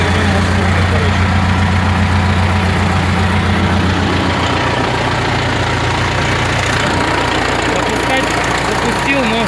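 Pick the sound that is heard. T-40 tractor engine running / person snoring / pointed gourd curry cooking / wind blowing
T-40 tractor engine running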